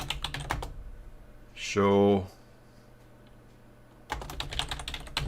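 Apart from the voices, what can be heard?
typing on a computer keyboard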